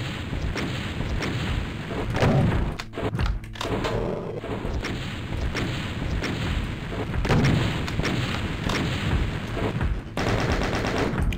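Relentless video-game gunfire from DOOM II, with a dense, loud stream of rapid shots and booming blasts, a few short gaps, and a fast rattling burst near the end, with no voices.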